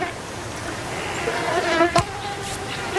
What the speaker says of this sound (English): These mosquitoes don't seem to be bothering you